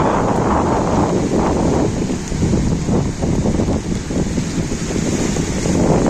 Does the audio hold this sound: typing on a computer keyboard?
no